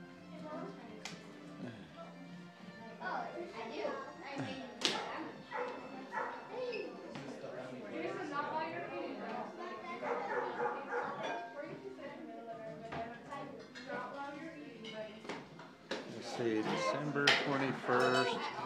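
A dog yips and whines amid a busy room at a Christmas party full of chatter and clinking dishes, its short barks popping out over the steady crowd noise.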